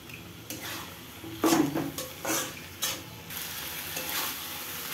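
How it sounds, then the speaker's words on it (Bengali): A spoon scrapes and clinks in a pan as curry with tomatoes is stirred after garam masala goes in, several irregular knocks over a faint sizzle, close up and fairly quiet. "এবার আমি তরকারির মধ্যে গরম মশলা দিয়ে একটু নাড়াচাড়া করে এটাকে নামিয়ে নেব।"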